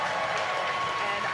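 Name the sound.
loud cheer at SpaceX Mission Control Hawthorne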